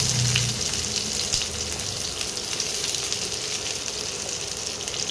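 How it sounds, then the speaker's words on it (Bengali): Chopped onions fry in hot mustard oil in a wok on an induction cooker, giving a steady, close, continuous sizzle with a watery hiss and faint stirring scrapes throughout, with no voices. "তেলটা গরম হয়ে এসছে। তেলের মধ্যে পেঁয়াজ কুচি"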